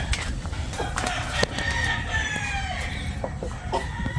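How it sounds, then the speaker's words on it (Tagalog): A flock of plump, multicoloured chickens clucks busily near by while a rooster crows several times, the overlapping calls rising over a steady farmyard background. "Itong mga matatabang manok."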